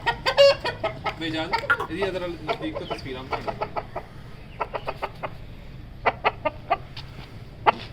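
A hen clucks in short, repeated bursts right after being let loose, loud and close, with someone speaking over parts of it.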